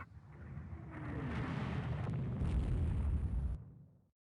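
A naval shell strikes a warship in Rule the Waves 2: a loud, long explosion swells into a rumbling roar for about three seconds, then cuts off abruptly.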